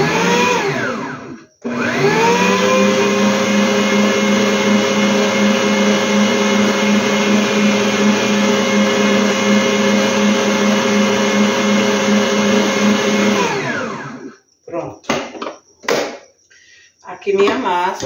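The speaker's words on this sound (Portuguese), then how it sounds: "Porque eu bato os primeiros ingredientes bem para quando eu for bater a massa com a farinha" Electric mixer beating the first ingredients of a simple cake batter, a loud steady whir running for about twelve seconds before stopping, followed by brief clatter.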